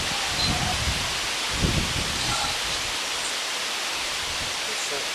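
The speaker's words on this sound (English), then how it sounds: "I'm sorry guys if y'all hear wind." Wind blows outdoors across Historic Ashland Cemetery in a loud, steady, broadband rush, with brief gusty swells and rumbling buffets against the microphone.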